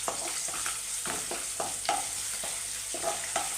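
Garlic and curry leaves sizzle steadily in hot oil in a pan, with repeated stirring scrapes every half second or so over the continuous frying hiss, close and fairly loud, with no talking.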